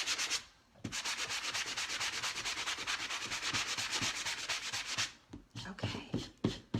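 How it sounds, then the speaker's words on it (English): A small sanding block rubs by hand across a painted surface, making fast, steady, rhythmic scratchy strokes up close for several seconds, then a pause and a few scattered final strokes. "I love my little sander block."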